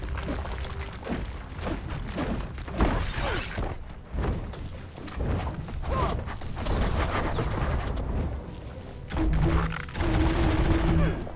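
Steady rattling gunfire and impacts in the action game Biomutant, with rapid bursts, clanks and shattering hits amid constant combat noise, with a voice talking briefly.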